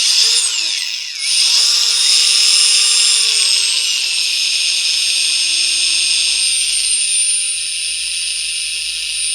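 An INCGO 42V cordless angle grinder runs at its lowest speed setting, a steady high-pitched whine that dips briefly near the start, then holds loud and continuous with a slight drop in pitch partway through.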